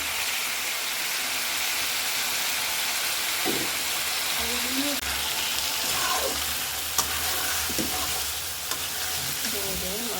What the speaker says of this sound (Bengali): হালকা একটু ভাজা করে ভেজে নেবো এই যে মশলাটা দিয়ে দিলাম